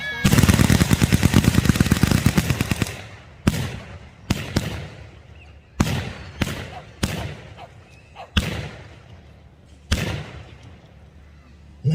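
World War II weapons fire together at a public demonstration, a long ragged volley of rapid shots followed by several separate loud booms and cracks echoing outdoors, with faint crowd sound between them.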